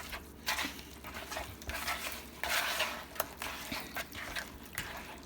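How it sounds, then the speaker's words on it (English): Spicy ranch chicken ingredients are squished and mixed together by hand in a bowl, with wet squelching and irregular sloppy rustling bursts, fairly close. "Now we're going to just mix all of this together"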